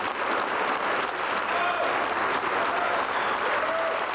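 A film premiere audience in Tbilisi gives the guest of honour a sustained ovation: dense, even clapping from a large crowd fills the hall from start to finish, with no voices rising above it.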